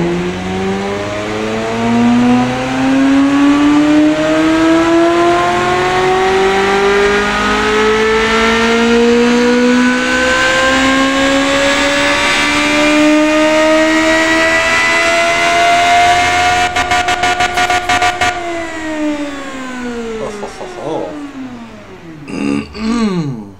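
A simulated engine in an engine-building game revs under test, a loud harmonic whine climbing steadily toward 9,000 RPM and holding high. It then drops abruptly as the engine shuts down, with a crackling burst near the peak.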